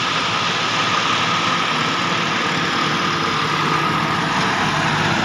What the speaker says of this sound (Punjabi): ਐ ਸਲਿੱਪ ਮਾਰਦਾ ਜੀ ਪੂਰਾ ਫੁੱਲ ਤੇ ਟਰੈਕਟਰ ਕਰਕੇ ਫੋਰ ਵੀਲ ਕਰਕੇ ਲੈ ਜਾਂਦਾ ਖਿੱਚ ਕੇ